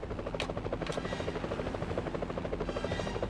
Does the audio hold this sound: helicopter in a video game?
yes